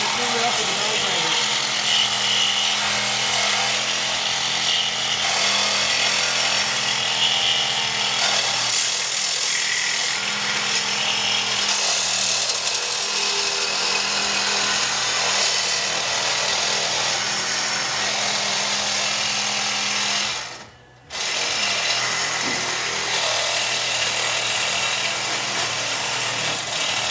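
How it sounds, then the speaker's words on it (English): Die grinder cutting and smoothing metal on the tail section of a Shadow 600 custom racer motorcycle, a loud continuous grinding whine close by that cuts out briefly near the end, with voices talking over it. "I'm gonna take a die grinder and finish up the bottom half."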